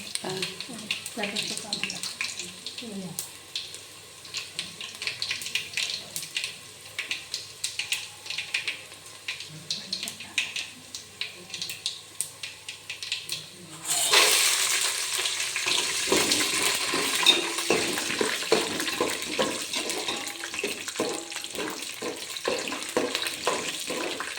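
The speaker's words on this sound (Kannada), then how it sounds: "ಶೇಂಗಾ, ಉದ್ದಿನಬೇಳೆ, ಕಡಲೆಬೇಳೆ 3 ಆ್ಯಡ್ ಮಾಡಿದ್ದೀವಿ. ಇವಾಗ ಚೆನ್ನಾಗಿ ಫ್ರೈ ಆಗಬೇಕು." Peanuts, urad dal and chana dal frying in hot oil for tamarind rice, a soft crackle at first that bursts into loud, steady sizzling with stirring scrapes, under occasional talk.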